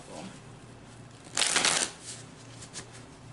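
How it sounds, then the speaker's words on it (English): A deck of tarot cards riffled in one brisk half-second burst of crisp papery flutter, close and clear in an otherwise quiet room, with a few faint card taps afterward. "one more shuffle"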